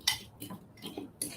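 A utensil stirring wet waffle batter ingredients with avocado oil in a bowl, a few quick clinking scrapes against the bowl, close and brief.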